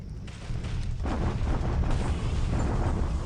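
Artillery bombardment rumbles through a World War II strategy video game set in 1942, a dense, continuous roar of booming explosions that swells and keeps going for the whole stretch, loud and close.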